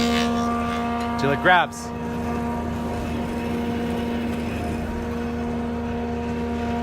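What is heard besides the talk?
woodworking machine with feed roller switched on and running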